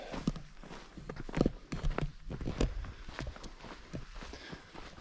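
Steady trail-running strides crunch close by along a Moab 240 endurance route in Utah, each footfall distinct and evenly paced, with no voices present.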